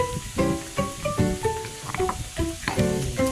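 Pounded palo (five-spice braising) spice paste is stir-fried in a pan with a soft sizzle, mixed under a steady run of rhythmic plucked musical notes throughout.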